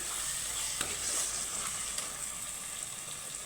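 Chana dal simmering in an uncovered pan, its lid just lifted, giving a steady soft sizzle and bubbling with a couple of small clinks and no talking.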